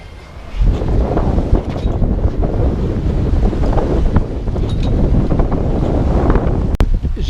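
Strong, steady wind of about 16–19 knots roars across the microphone for several seconds on a sailboat, with rushing water faintly beneath it.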